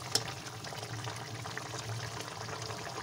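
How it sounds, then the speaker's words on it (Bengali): A little water is poured into a curry cooking in a pan, a faint, soft liquid trickle and bubbling over a low, steady background. "কষা হয়ে গেছে, এতে অল্প করে একটু জল দিয়ে দেবো।"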